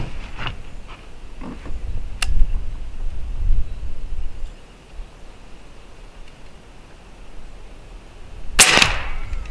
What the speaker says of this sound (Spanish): Vamos a hacer otros dos disparos a ver si lo podemos completamente destruir